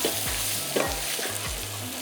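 Coconut and coriander powder sautéing for country chicken curry, a close continuous sizzle with scraping stirs and low background music, no talk.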